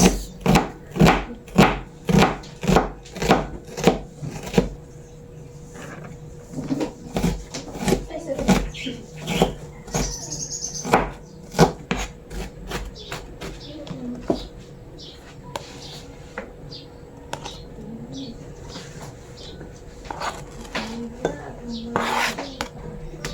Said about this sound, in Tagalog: hinihiwa na po ni mama itong sibuyas